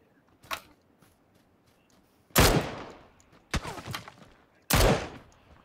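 Gunfire in PUBG during a squad match: three loud, sharp shots spaced a second or two apart, each with a long echoing tail, plus a fainter distant shot near the start.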